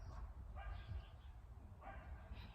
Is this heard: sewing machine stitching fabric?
no